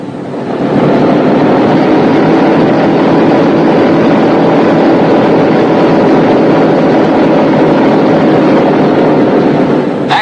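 Engines of a 1943 B-17 bomber running steadily, a loud, continuous, close droning roar that holds an even level for about ten seconds with no voices.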